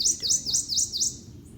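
A wild bird in the Kansas Flint Hills gives a rapid series of five high, sweeping chirps in even rhythm, clear and fairly close, followed by one softer note, with no talk.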